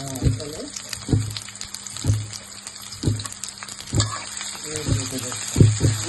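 Round-sliced onions hit a hot pan for a Chinese vegetable dish and sizzle steadily, with regular soft clunks of stirring or a utensil against the pan, fairly close.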